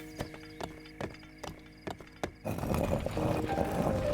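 A horse gallops in The Legend of Zelda: Breath of the Wild, with crisp, evenly spaced hoofbeats up close that give way to a louder rushing, rumbling wash of game sound.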